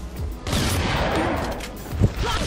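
Gunfire in a competitive shooter match during a championship final, a burst of shots with a sharper crack near the end, heard over steady game noise.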